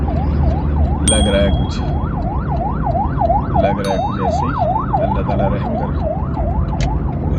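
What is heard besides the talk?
ambulance sirens passing one after another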